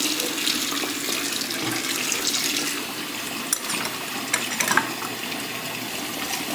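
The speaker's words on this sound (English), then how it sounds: "What I like to do is I like to fill both sides of the sink with water." Tap water runs into both sides of a kitchen sink being plumbed underneath, a steady close rushing and splashing with a few brief clinks and knocks along the way.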